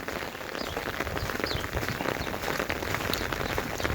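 Steady rain pours down on a desert homestead, a dense, even hiss of drops drumming on surfaces that holds unbroken and fairly loud throughout.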